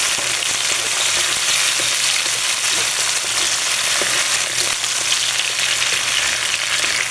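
Garlic, onion and tomato sauté in a pan for tuna spaghetti, giving a steady, loud, close sizzle and crackle that runs without a break for the whole stretch, with no voices over it.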